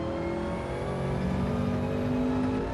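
Gr4 race car from Gran Turismo 7 at Watkins Glen, engine note rising steadily under throttle, a loud continuous close-up drone with no pause or voices.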